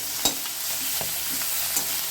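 Kohlrabi leaves fry in a pan until crisp, giving a steady sizzle broken by three sharp stirring strokes, close and alone with no talk.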